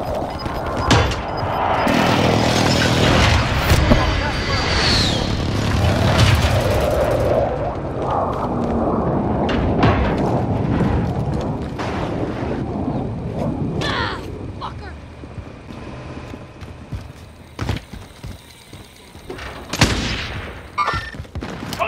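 An airstrike in a video game brings a long, dense roar of explosions and rumbling blasts, followed by scattered sharp cracks and thuds as the barrage thins out.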